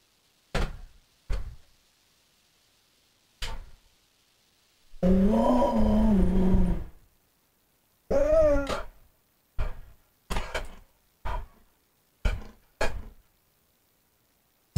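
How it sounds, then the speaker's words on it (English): A pet cat or dog growls in two long, low rumbling bursts, close and loud, between sharp isolated knocks and thumps in an otherwise quiet room, with no talking. "What are you growling at?"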